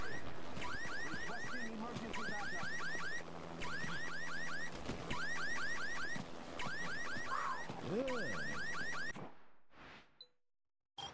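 Drones in the video game Dead Rising give off a looping, alarm-like electronic squeal, repeating in steady bursts before cutting out near the end.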